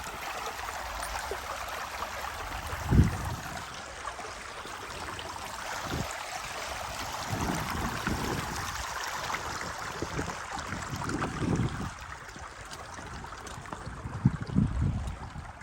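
Creek water flows steadily at a stream crossing on the Piedra Blanca Trail in Los Padres National Forest, a constant broadband rush with a few low thumps and splashes mixed in.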